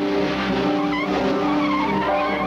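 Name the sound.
car accelerating hard with tires skidding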